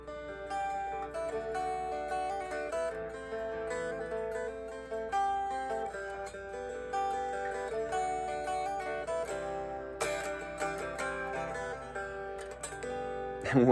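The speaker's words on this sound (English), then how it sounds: "Or if you want to apply arpeggios and chord substitutions," A guitar plays a chord progression picked as arpeggios, with chord substitutions added. The notes flow steadily and up close, and a few brighter strummed accents come near the end, with no talking.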